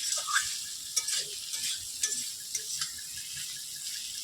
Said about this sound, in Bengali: এবার আলুটা একটু নাড়াচাড়া করে